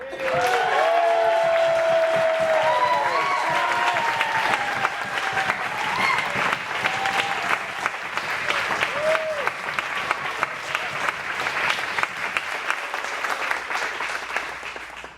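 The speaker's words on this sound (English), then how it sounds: "Put a big round of applause together for Yal Strong." A crowd at an evening sunset ceremony in a hall claps loudly and continuously, with scattered cheers and whoops rising early before the applause thins slightly toward the end.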